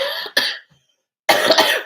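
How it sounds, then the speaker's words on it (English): A hard, close cough, a quick second one, then a pause and another rough cough, all loud with no talking. "Here goes that cough."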